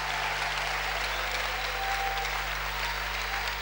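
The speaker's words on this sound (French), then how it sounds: "On acclame pour le roi des rois" Sustained applause from a church congregation acclaiming the king of kings, a dense steady wash of clapping throughout with faint cheering over a low constant hum.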